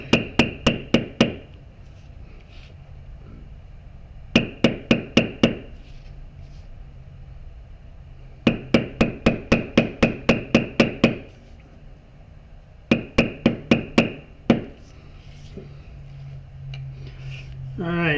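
Sharp, bright taps of a mallet striking a beveling tool to bevel small squares into tooled leather, coming in quick bursts of five to nine strikes separated by short pauses, close and clear.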